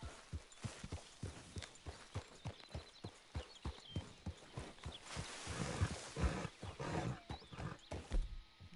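In the video game Red Dead Redemption 2, a horse's hooves clip-clop in a steady, rhythmic series of close, distinct thuds, with a brief rumbling swell midway through.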